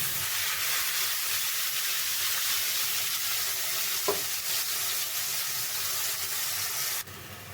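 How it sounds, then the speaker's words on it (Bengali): Blended paste of cumin, onion and dried chilli frying in oil in a wok, a loud continuous sizzle with one brief knock partway through before the sound drops abruptly. "এখন কড়াইতে কিছুটা তেল দিয়ে দিচ্ছি এখানে ব্লেন্ড করে নিয়েছি জিরা পেঁয়াজ ও শুকনো মরিচ এটা আমি দিয়ে দিচ্ছি"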